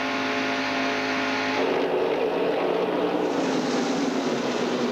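A NASCAR Winston Cup stock car engine at the 1996 Pepsi 400 at Daytona, heard from the in-car camera as a loud, steady roar that shifts pitch and grows harsher midway.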